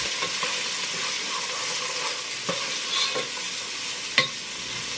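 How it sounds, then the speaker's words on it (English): Onions frying in oil in a pan for vegan black bean soup, a steady close sizzle that runs throughout with a few soft stirring scrapes and clinks. "all of that gets cooked until it's translucent with no spices, just the oil and onions"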